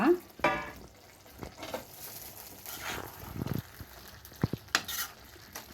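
Bitter gourd gojju cooking in a pan, a soft simmering sizzle under intermittent stirring scrapes and a few sharp utensil knocks, close and fairly quiet.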